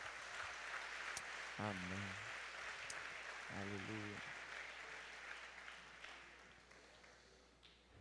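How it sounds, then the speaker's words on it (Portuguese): A church congregation applauds during a worship service, a steady wash of clapping that carries through the whole stretch, with a voice speaking briefly over it twice. "Você pode aplaudir a Jesus?"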